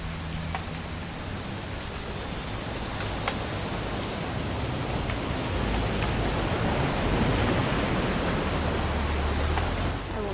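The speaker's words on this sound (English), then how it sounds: "It's gonna rain the whole weekend," Steady rain in the video game What Remains of Edith Finch, a dense even hiss of falling drops that holds at a moderate level throughout with no break.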